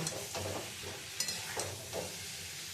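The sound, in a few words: potatoes being fried and stirred with spices for Kashmiri dum aloo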